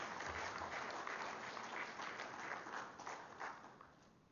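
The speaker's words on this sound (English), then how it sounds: "So I want to invite us to clap hands for ourselves for the great work we've done since then." Audience applause at a TB and leprosy stakeholders' conference, a steady wash of many hands clapping together that holds for several seconds before thinning slightly toward the end.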